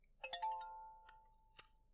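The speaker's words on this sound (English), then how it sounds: "Oh, text message." A phone text message notification plays as a short, faint sequence of bright chiming tones, a few quick dings followed by two softer later blips over a quiet background.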